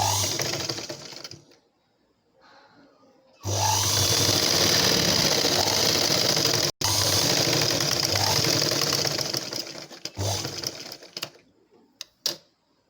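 An electric sewing machine stitching darts on a blouse, running in a loud steady whir for several seconds with a brief stop, then slowing to short bursts and quiet handling.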